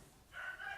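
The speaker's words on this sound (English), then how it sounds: "Oh, the chickens are cleaning up in here." A rooster-like chicken call rises in the second half, a sustained bright squawk over faint farmyard background with sheep kept nearby, fairly close and moderately loud.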